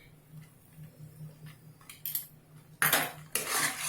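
A metal spoon scraping and clinking against a pan while semolina and milk halwa is stirred, faint at first, then a few loud clattering scrapes near the end.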